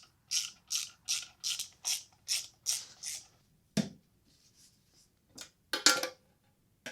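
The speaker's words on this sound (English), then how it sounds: "So we're going to start with taking all these bolts out." A ratchet wrench backs bolts out of a Harley-Davidson Dyna primary cover, with a steady series of about ten quick ratcheting bursts, then a few scattered clicks and a louder clatter, close up with no talk.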